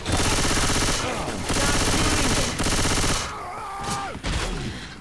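A silenced SMG fires in Left 4 Dead 2 amid zombie combat, with dense, loud rapid bursts interrupted by short gaps, mixed with other game noise and faint voices.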